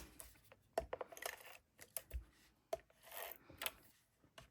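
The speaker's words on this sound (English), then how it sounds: "I'm going to just use a simple tape runner." A simple tape runner lays adhesive tape onto paper for a stamped card project, making quiet, close rubbing and rasping strokes with light taps and scrapes scattered among them, alone and with no voices.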